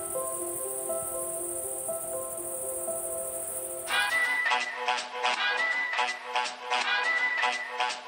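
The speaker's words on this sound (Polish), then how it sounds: "Ciekawski świerszcz chyba chce bawić się ze mną w chowanego." A cricket near an old bus turned into lodging on Crete. Rapid, regular high-pitched chirps pulse steadily, loud and close, after a stretch of a high continuous insect buzz.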